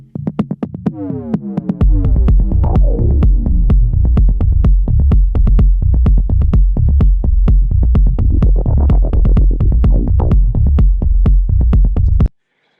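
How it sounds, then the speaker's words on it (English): Electronic music with a smooth, rumbling synth bass and sharp, edgy synth lines over a steady beat; the full low end comes in after a sparse opening. "Super smooth rumbling low end with edgy synths"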